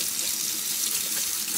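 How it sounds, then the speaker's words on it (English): Tap water runs steadily to rinse a freshly scrubbed surface cleaned with homemade soft scrub, a close, continuous hiss and splash with no pauses and no voices. "when you can rinse it down with the water"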